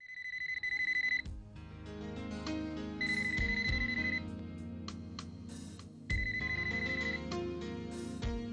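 A telephone rings in repeated electronic trilling bursts, each about a second long and separated by short gaps. Musical background tones play underneath and no one speaks.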